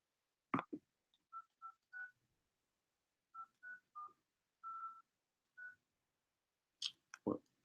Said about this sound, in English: Make sure I dial that right.